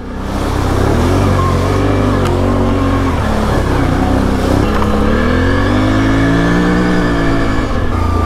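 Can-Am off-road vehicle in two-wheel drive on a muddy trail, engine revving loudly and continuously with rising and falling pitch sweeps, close and dominant, no talk.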